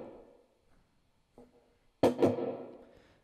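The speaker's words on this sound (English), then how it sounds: "we're going to start off with just this kind of like muted strumming thing" Muted guitar strumming for the intro of a song: a few dull, damped chordal scrapes, with one soft stroke followed by a louder, brighter double strum near the end, heard alone and close.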